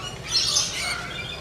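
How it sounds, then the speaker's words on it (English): A pet parrot perched on someone's shoulder at a wild animal park lets out a close, harsh squawk, one rasping call that rises and trails off without talk. "He's a good bird."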